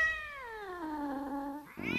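A cat gives one drawn-out meow that slides downward in pitch, clear and fairly close, ending in a brief rustle.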